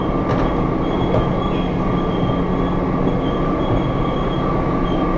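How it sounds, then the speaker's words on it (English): A Washington D.C. Metro Red Line subway train runs near Farragut North with a loud, steady rumble, a constant hum and faint high squeals from the wheels and rails, and no talk. "So this is the Red Line train"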